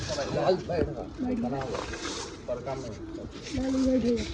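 Pigeons coo and flutter close by while someone talks loudly in Hindi over them nearly throughout.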